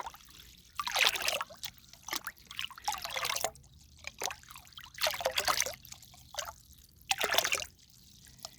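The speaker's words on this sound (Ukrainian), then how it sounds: "розмішую і по літрі буду підливати під кущ" Settled warm water being stirred and poured from a container beneath eggplant bushes, four separate close trickling and splashing pours with quiet pauses between them.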